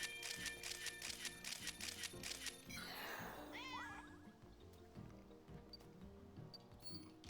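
Meowth in New Pokémon Snap gives a drawn-out, whiny cat meow with a sliding pitch over busy jungle ambience and chirps, moderately loud and close.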